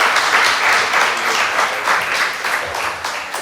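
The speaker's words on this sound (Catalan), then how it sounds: "Aplaudim els voluntaris." An audience applauds volunteers at a Catalan event, steady dense clapping filling the room throughout, fairly loud and close with no talking over it.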